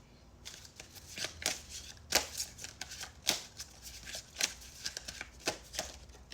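Oracle cards from an African Goddess deck being shuffled by hand, a quick run of soft papery riffles and slaps repeating in irregular bursts, close and fairly quiet with no talking.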